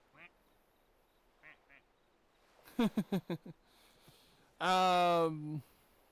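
A toy cake-shaped duck gives a sequence of quacks: a few faint quacks, then a loud rapid burst of four or five, then one long, loud, buzzing quack, with soft indoor background.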